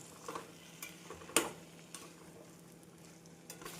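Whole eggplants sautéing with masala in a pan over a medium flame, a soft, quiet sizzle with light stirring scrapes and one sharp clink of a utensil against the pan.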